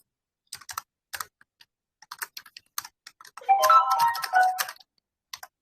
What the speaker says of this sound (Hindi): टाइपिंग चल रहा लगता है।